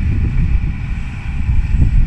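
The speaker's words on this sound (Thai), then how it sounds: "ลมแรงหน่อยนะครับลมแรงหน่อย" Strong wind buffets the microphone at a canal-digging site where a Kobelco SK200 excavator loads soil into a ten-wheel truck, making a steady, loud low rumble with gusty swells throughout.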